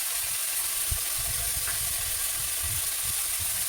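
Fish and vegetables frying in a pan, a dense, continuous sizzle close up with soft bubbling and occasional low knocks from stirring, no voices.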